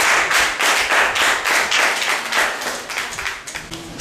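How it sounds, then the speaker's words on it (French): Audience at a youth writing-contest award ceremony claps in rhythmic, fairly loud bursts, a lively round of hand claps that starts to thin out toward the end. "C'est le moment d'applaudir."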